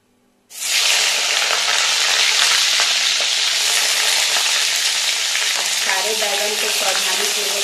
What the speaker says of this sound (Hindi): तेल पहले अच्छे से गर्म हो जाए, फिर मैं फ्राई करूंगी।